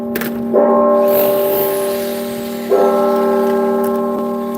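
Church tower bells ring out loudly outdoors, two strong strikes a couple of seconds apart, each leaving a long, rich, sustained hum that slowly fades.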